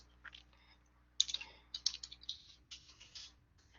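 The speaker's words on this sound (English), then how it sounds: "And I'm going to start typing the question in." Typing on a computer keyboard: bursts of quick, irregular key clicks, close and fairly quiet, with short pauses between runs.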